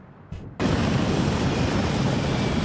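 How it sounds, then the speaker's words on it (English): Ukrainian attack helicopters approaching in the combat game Arma 3: after a brief quiet moment, a loud, dense engine and rotor roar cuts in abruptly and holds steady and close throughout. "Ukrainian attack helicopters here coming in"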